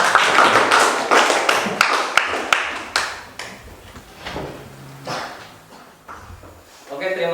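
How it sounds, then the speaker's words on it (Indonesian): Audience applause after a class presentation in an Indonesian classroom, a dense burst of hand claps that thins out and fades, with scattered taps and some chatter underneath. "Oke, kita kasih aplaus."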